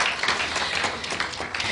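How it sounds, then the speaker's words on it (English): Audience applause at the opening of SheForum Africa 2014, a steady dense wash of clapping from a crowd, fairly loud and continuous with no talk over it. "Please give SheForum a round of applause."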